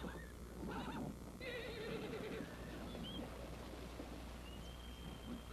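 A horse whinnies loudly in a long, wavering call, followed by hooves and faint shuffling over a steady background hum.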